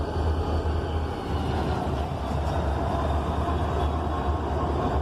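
A freight train passes a village crossing, with a loud steady rumble and rolling wheel noise throughout and low engine drone, close by.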